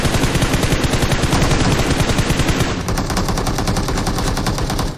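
Rapid automatic gunfire in a video game, a loud, close, steady burst of machine-gun shots that runs the whole time and eases slightly partway through.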